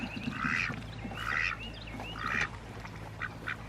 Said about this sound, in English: Let's look at this duck.